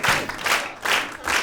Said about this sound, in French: donc on peut applaudir Mazine.